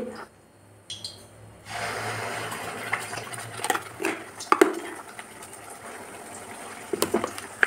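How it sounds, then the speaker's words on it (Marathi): Masala spices drop into hot oil in a pan while a home-style vegetable curry is cooked. After a short quiet start, a sudden steady sizzling hiss rises and continues, with a few light clinks of a utensil against the pan. "तेल गरम झालेलं आहे, तर आता आपण मसाला यामध्ये टाकून घेऊ।"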